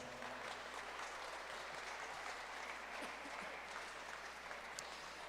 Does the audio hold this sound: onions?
no